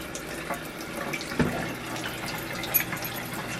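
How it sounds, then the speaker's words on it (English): Water runs from a kitchen tap while hands are washed after seasoning ribs. The stream is soft and steady, with faint splashes and a small clunk partway through. "Wash my hands."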